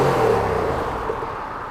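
A motorcycle engine revs through its exhaust in a steady, moderately loud low drone that eases off slightly toward the end, with no other sounds over it.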